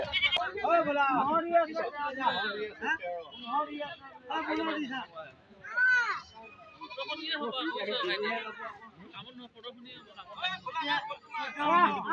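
Goats bleat repeatedly in wavering, nasal cries, close by, with people talking over and between the calls.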